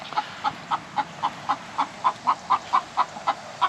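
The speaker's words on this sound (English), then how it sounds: "These chickens don't shut up," Chickens cluck beside a three-step composting setup in a quick, regular series of about fourteen short calls, close by and fairly loud, with no one speaking.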